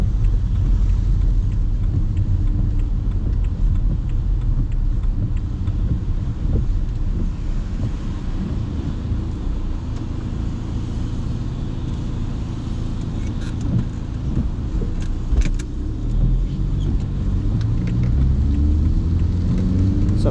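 A diesel car pulls away from a roundabout and climbs to high revs around 3,500–4,000 rpm, a steady loud engine drone and rumble with wind buffeting throughout and no speech.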